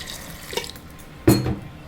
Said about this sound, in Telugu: వాటర్ వేసుకొని